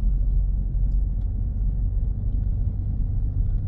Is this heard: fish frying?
no